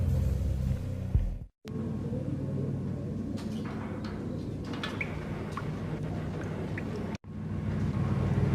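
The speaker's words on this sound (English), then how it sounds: "The old service elevator rumbled down to the bowels of Jack Lupino's hotel." An old service elevator in a run-down hotel, from the Max Payne video game, rumbles steadily downward with a deep continuous mechanical drone, faint squeaks and clanks on top, and two short silent breaks.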